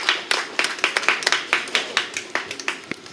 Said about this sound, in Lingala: Est-ce qu'on peut applaudir les papas?